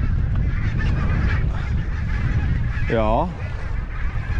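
A single goose honks once at a distance during a spring fishing competition, its short call rising above steady loud wind and outdoor rumble.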